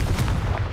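A loud, rumbling blast from the Confringo spell in Hogwarts Legacy fills the short moment, a dense booming burst with no talking.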